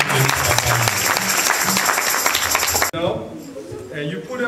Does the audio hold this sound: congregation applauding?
yes